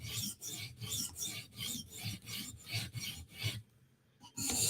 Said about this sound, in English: So we'll grind a little bit at the heel